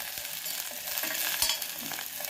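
Split green gram avalakki frying in a pan gives a steady, bright sizzle, with scraping stir strokes at irregular intervals and no voices.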